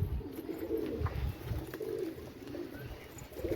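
Pigeons on a rooftop in Gujarat coo softly in low, repeated bursts, fairly close, with faint bird chirps and background hiss and no talk.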